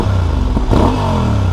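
A Honda Hornet motorcycle with an aftermarket exhaust revs loudly and close by, a dense low rumble that rises with a brief surge midway.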